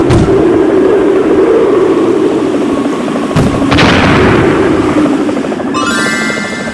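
Gunfire from an aircraft shooting down an enemy in a VR carrier jet combat game, a loud continuous rattle of shots over a steady engine drone, with a sharp burst near the middle and no talking.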